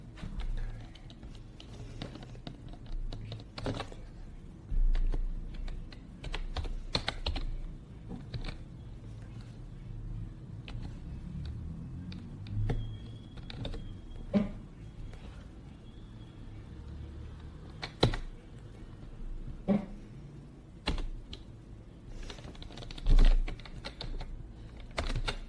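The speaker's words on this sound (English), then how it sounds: "Press enter and start typing." Someone types a script on a computer keyboard, quick irregular bursts of close, crisp key clicks with short pauses between runs, alone and without talk.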